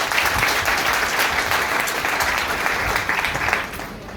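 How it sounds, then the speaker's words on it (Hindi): Loud, dense applause from an audience at a seminar or motivational event, honoring a senior mentor, with steady sustained clapping that carries on for several seconds before thinning slightly at the end. "जोरदार ताली"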